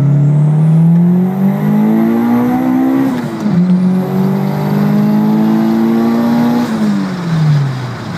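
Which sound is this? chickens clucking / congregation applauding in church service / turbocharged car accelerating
turbocharged car accelerating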